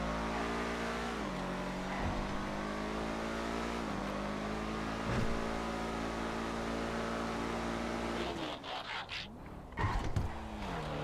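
A Schlagen GT sports car engine drones steadily in GTA FiveM racing, the revs climbing and dropping through gear shifts, then a burst of throttle and tire scrub near the end, with no talking.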